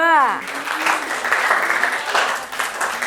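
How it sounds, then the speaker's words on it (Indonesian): Classroom applause for a student group after its presentation: a dense, steady wash of many hands clapping together, fairly loud, with a brief tonal sound at the very start. "Ya, tepuk tangan untuk kelompok 2."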